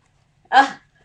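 A single short dog bark or yip, close and fairly loud, standing alone in an otherwise quiet indoor setting.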